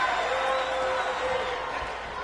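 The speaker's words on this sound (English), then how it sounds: "The NCW crowd is on their feet tonight, ladies and gentlemen." A sellout wrestling crowd at an NCW show in Tampa roars in a steady, dense wash of cheering that holds at a constant level throughout.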